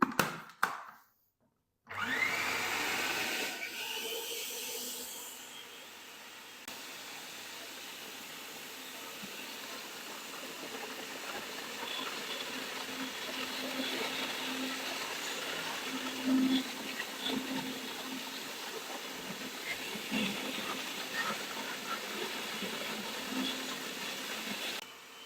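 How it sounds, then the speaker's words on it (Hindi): An electric chopper minces raw chicken into keema with a loud, steady motor whir that runs on after a brief start and pause, nearby with no one speaking. "थोड़ा थोड़ा करके ना चिकन डालेंगे और चिकन को भी हम अच्छी तरह इसका कीमा बना लेंगे"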